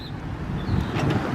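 A low motorized whir of the power sliding door on a 2007 GMC Savana wheelchair conversion van, ending in a faint click and thump, with no talking.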